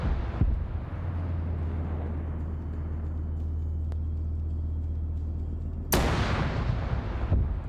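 Two cannons firing together from one appendage of a vehicle in a video game, a heavy booming blast at the start under a low droning hum, then another sharp, loud shot near the end.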